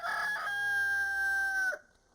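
A rooster at an animal rescue, kept alongside ducks, lets out a single loud, close crow that holds steady for nearly two seconds and then cuts off into quiet.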